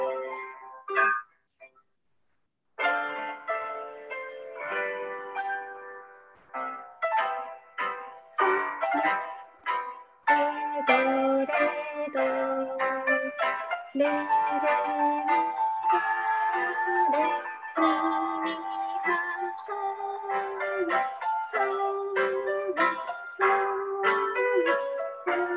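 A recorded accompaniment track plays melodic instrumental backing, in the style of a music-box or chime-like tune. It starts in short phrases broken by a pause, then runs continuously at a steady moderate level with no voices.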